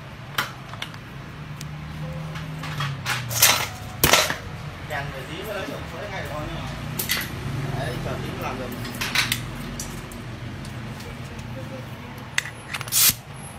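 An impact wrench fires in several short, sharp rattling bursts on the clutch nut of an automatic scooter during clutch cleaning and reassembly, loud and close with pauses between, and a voice murmurs in the background.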